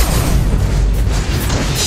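An explosion as a turret is destroyed in the mobile game Mobile Legends, a loud, sustained rumbling boom with crackling debris that fills the whole moment.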